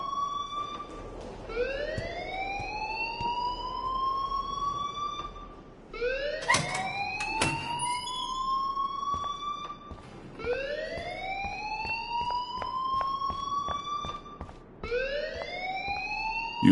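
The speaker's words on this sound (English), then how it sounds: "please turn off that alarm since that's your job" A rising and falling siren-like alarm wails in the video game Life is Strange, each sweep climbing then holding, repeating about four times with sharp clicks and bursts between cycles.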